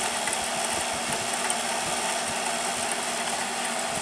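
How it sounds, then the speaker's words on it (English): An Arctic King WWK05CM71N window air conditioner running with its fan blowing, a steady broadband whoosh and hum with a faint rattle, close and constant. "Do you see the fan blades? The fan blades are actually blowing."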